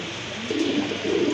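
A pair of orange Chila pigeons coo softly up close, a low, throaty warble that rises and falls in two short swells.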